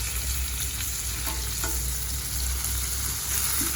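Onion, tomato and garlic sauté in a hot pan with a dense, steady sizzle and a few stirring scrapes, close and loud throughout.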